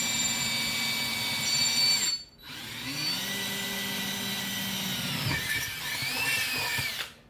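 A power drill whines loudly and steadily into a metal drag rim without lubricant, stops briefly, then starts again with a shifting pitch before cutting off.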